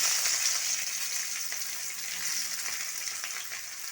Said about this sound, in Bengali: এবার পেঁয়াজটা দিয়ে দেবো